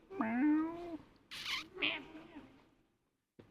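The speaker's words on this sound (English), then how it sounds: "And there's a cat." Inside a cathedral, a cat gives one clear, drawn-out meow close by, followed by a brief hissy noise and a short voiced sound, with a quiet echoing room around it.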